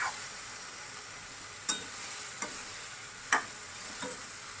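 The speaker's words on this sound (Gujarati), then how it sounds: "એ સરસ આપણે મિક્સ કરી દઈશું" Raw banana vegetable dish stirred in a pan over a steady sizzle, with a few sharp spoon clinks against the pan standing out close by, no talk.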